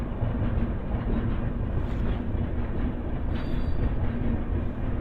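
A train at Penukonda junction railway station, its steady broadband rumble and rolling rail noise continuous and loud throughout, with no talk.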